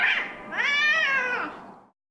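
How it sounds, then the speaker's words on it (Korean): Street cats squaring off in the middle of a road in a residential area give one close, loud, drawn-out yowl that rises and wavers for about a second and a half before fading out. "길고양이들이 묘한 기운을 풍기더니 도로 한가운데서 싸움을 시작합니다"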